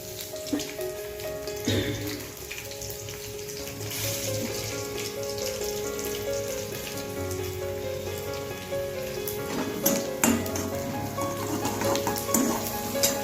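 Cumin seeds sizzling in hot oil on a gas stove for peanut chutney, a steady close crackling hiss with a few sharper pops toward the end, no talk.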